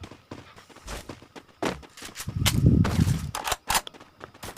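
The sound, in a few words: gunfire in video game Free Fire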